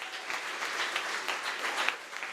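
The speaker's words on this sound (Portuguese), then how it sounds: "Você pode aplaudir ao Senhor?" Congregation applauding at a Sunday evening church service, a steady wash of many hands clapping at moderate distance, fairly soft and even throughout with no talk over it.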